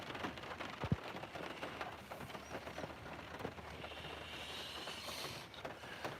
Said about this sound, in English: Rain out today